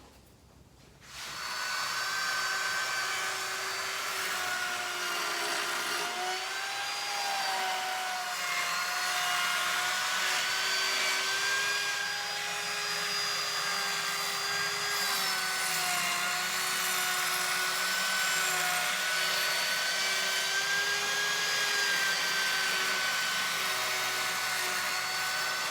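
A wood router spins steadily as it cuts a circular arc into the curved faces of a demilune table, a loud, continuous high whine with a sustained tone that wavers slightly throughout, with no talking.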